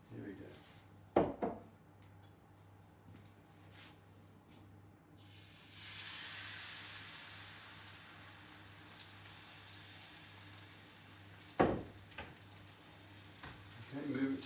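Pancake batter in an oiled frying pan, a soft continuous sizzle that swells after the batter goes in, with a few clanks of the pan and someone talking nearby.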